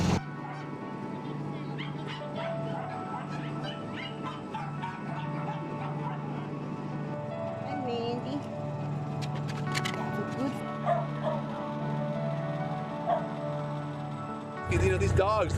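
Rescue dogs on an animal transport bark, yip and whimper over a steady low hum, with people talking intermittently in the background.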